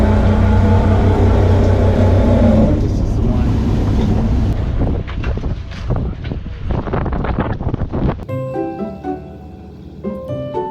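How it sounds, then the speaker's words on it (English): A fishing boat engine drones loudly with rushing wind for several seconds while maneuvering through strong tidal currents, then fades as the sound shifts toward quieter, ringing tones. "sixth-generation fisherman Craig Conley expertly maneuvers the boat, working with the tricky currents"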